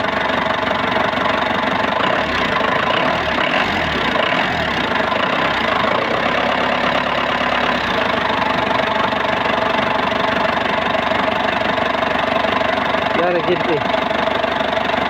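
A Ford SUV engine cranks with a few low pulses, then settles into a loud, steady idle that runs to the end, with a voice speaking briefly over it.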